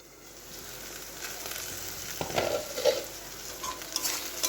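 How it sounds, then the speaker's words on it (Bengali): Onions frying in a pan are stirred while browning for a chicken curry, giving a steady sizzle under louder scraping and stirring clatter that picks up in the second half. "পেঁয়াজটা লাল লাল করে ভাজি"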